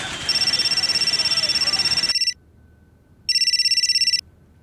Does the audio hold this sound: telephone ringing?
yes